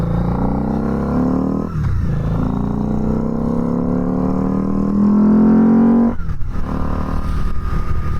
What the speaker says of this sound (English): If you got this bike, you got to really rev it up there.